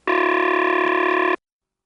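A loud, steady AE step-office telephone ringtone from Rock Hill, a harsh buzzing tone that sounds once for just over a second and then cuts off, leaving silence.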